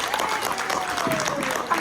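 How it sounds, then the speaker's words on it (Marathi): An audience claps at a village orchestra show, a brief, fairly close patter of hands continuing under talk. "एकदा जोरदार टाळ्या वाजवा."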